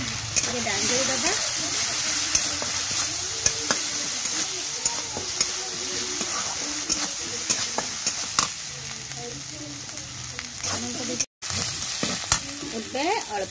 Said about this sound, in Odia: ଟିକେ ଡାଙ୍ଗେଇ ଦେବା